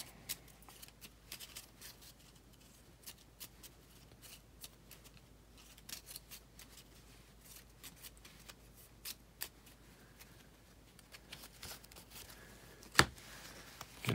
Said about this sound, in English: So do a little bit of shuffling.